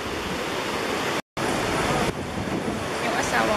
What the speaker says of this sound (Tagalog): Malakas yung alon ng tubig.